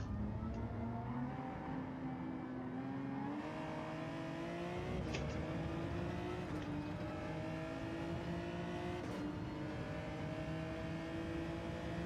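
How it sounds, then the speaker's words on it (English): A race car engine in Gran Turismo 7 revs steadily through a daily race, its pitch rising and dropping through gear changes as a constant, close drone with no talking. "That blue pit says you rev it just a bit, not too much though."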